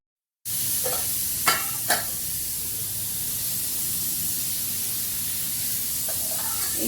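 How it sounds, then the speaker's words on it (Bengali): A roti toasts on a hot pan with a constant airy hiss and sizzle, broken near the start by a couple of light taps and a faint scrape later on. "রুটিটা সেঁকে নেব।"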